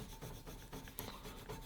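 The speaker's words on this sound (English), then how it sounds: "my consistent rubbing with this bit of wood that's making it come off" A bit of wood rubs steadily back and forth across a surface being cleaned with Bar Keepers Friend, a soft continuous scrubbing rasp, close but quiet.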